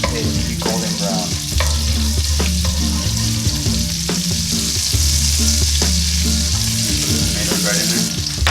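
Garlic frying in a pan, loud continuous sizzling with stirring scrapes, close and without talk.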